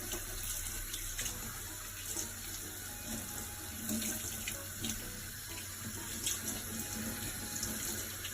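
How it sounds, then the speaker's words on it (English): Running tap water streams steadily into a sink, with intermittent splashing and sloshing as chicken is rinsed under the flow. "I will wash chicken."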